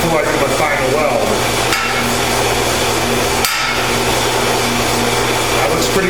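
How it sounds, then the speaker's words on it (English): Metal hammer taps ring out against a welded steel truck cargo rack leg as it is knocked back into square, a few sharp strikes spaced apart over a steady background hum. "So I'm tapping her back into square before I do my final weld."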